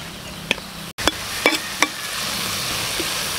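Pechay stir-fries in sesame oil in a hot pan, a steady close sizzle broken by a few sharp utensil clacks and scrapes.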